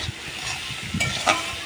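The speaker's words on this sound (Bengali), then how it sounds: "তারপর পেঁয়াজটা ভালোভাবে ভেজে নেবো।" Chopped onions with a little salt fry and get stirred in a pan for a jackfruit curry, a soft steady sizzle with a couple of louder scraping stirs near the end.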